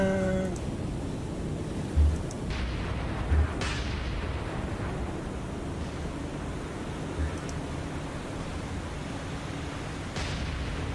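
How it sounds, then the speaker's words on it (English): Naval gunfire in the War On The Sea video game: a few dull, low booms at irregular intervals over a steady rumbling sea-and-engine wash, distant-sounding, with no talk. "Guns, fire. I don't care how much ammo you use."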